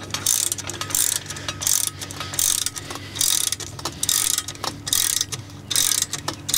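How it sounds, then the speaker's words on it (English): A Starcraft popup camper's lift mechanism cranks in loud, rhythmic ratcheting bursts, each metallic clatter separated by brief pauses, repeating close up with no talk. "it's going to start cranking the rig"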